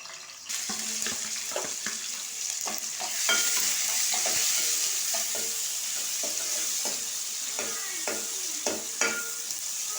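Chopped onions hit hot oil in a pan and set off a sustained close sizzle, with repeated scraping and tapping of a stirring spoon throughout.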